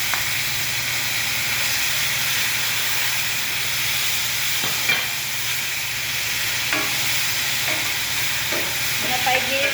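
Ingredients sauté loudly in a pan with a dense, continuous sizzling hiss, and a few faint scrapes and clinks of stirring come through in the latter half.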